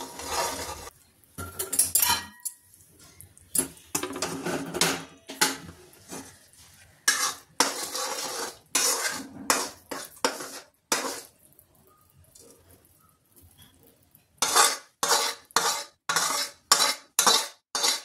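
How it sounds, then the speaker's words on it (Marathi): Jaggery syrup stirred into a fenugreek laddu mixture in a hot pan, with repeated scraping and clinking strokes of a spoon against the vessel, arriving in irregular bursts, then quicker rhythmic strokes near the end, close and fairly loud, no talking. "आपल्या गुळाचा पाक आपल्याला या सर्व मिश्रणामध्ये ॲड करायचा आहे."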